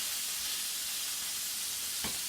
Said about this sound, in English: I'll turn my hamburger patty over.